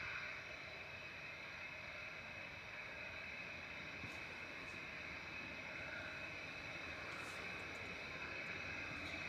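An EasyJet airliner departing Manchester Airport produces a faint, distant, continuous engine rumble that stays steady throughout, with no voices.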